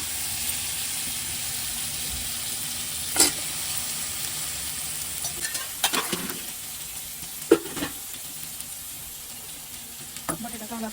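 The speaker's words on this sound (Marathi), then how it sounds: "बटाटा चांगला आपण परतून घेऊ." Potatoes sauté in spiced oil in a pan, making a continuous hiss with occasional stirring scrapes and knocks, close by, while a faint voice sits in the background.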